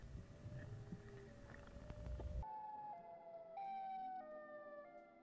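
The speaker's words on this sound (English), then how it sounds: "It's that like tornado warning sound effect that they use for like siren head." Eerie tornado-warning-style siren of the kind used for Siren Head, loud wavering tones stepping between pitches after a noisy rumbling opening, no talk.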